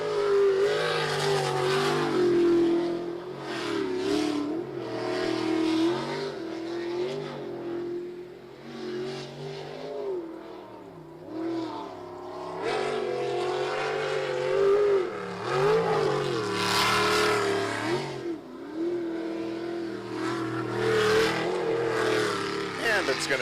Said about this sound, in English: That is a cool sounding boat